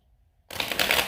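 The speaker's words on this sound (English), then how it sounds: "Let's go ahead and shuffle the cards a little bit." Tarot cards riffle and shuffle in a quiet room, a sudden close papery flutter that starts after a short silence and runs to the end of the clip.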